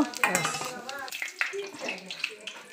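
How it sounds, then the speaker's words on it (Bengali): Whole cardamom, cloves, cinnamon and bay leaf hit hot oil in a pan for mutton biryani, giving scattered clinks and scrapes over a soft sizzle. "তেল গরম হয়ে গেছে, এবার আমি মশলাটা দিয়ে দেবো।"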